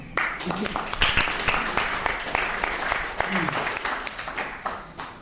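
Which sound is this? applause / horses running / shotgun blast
applause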